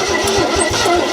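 A 1974 AMC Javelin that has sat for over 30 years cranks with rapid rhythmic starter pulses as its engine tries to catch, loud and close, with no talking.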